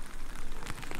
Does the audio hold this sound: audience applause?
no